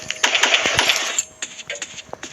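Bright metallic jingles and clinks in quick bursts, a key being picked up in the Roblox game Doors, followed by a few scattered chimes.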